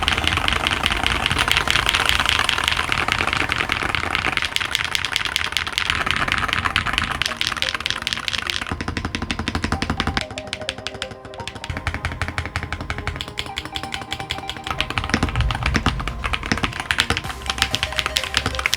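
Typing on IQUNIX EZ63 and White Elf mechanical keyboards, a dense, continuous rattle of keystrokes close up with no talking, the clatter shifting in tone partway through as the boards are compared.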